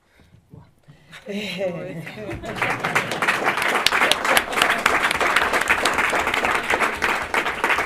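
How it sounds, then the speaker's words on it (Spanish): After a brief spoken phrase, an audience at a conference session on public policy and the social economy bursts into applause that swells and continues as a dense, lively clatter of many hands. "Aventuro a pensar que este aplauso no es por la intervención, sino por el trabajo que venís haciendo"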